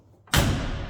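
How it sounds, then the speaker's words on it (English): A steel door on a 1970 Chevrolet C10 shortbox pickup truck slams shut with one solid, loud thud after a brief quiet moment, followed by a short ringing decay. "Listen to that door close."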